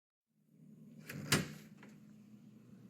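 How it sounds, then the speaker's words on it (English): A heavy old door in a train compartment gives way reluctantly, a dull thud and scrape with a brief sharp creak in the middle, fairly quiet and close, then a faint rustling tail. "The door gives reluctantly and the middle lets out a thin sprawl, like the knife over glass."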